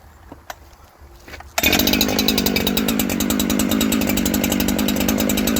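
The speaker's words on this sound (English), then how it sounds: "Let's go ahead and fire it up, and it should start one pole." After a quiet moment with a couple of faint knocks, a Husqvarna 372xp chainsaw fires up suddenly and settles into a loud, steady, close idle with a rapid buzzing pulse.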